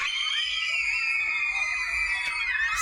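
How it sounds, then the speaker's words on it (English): A crowd of girls shrieking in sustained, high-pitched unison, loud and continuous throughout with no talking. "Screaming girls."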